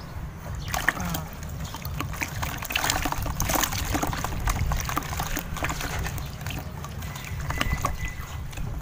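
Baby super red iguanas being bathed together, with steady water splashing and trickling close by, plus small irregular splashes throughout.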